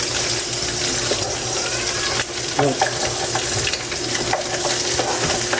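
Garlic, onion and ginger sautéing in a pan give a steady, loud sizzle and frying hiss throughout, with occasional stirring scrapes and a voice briefly heard.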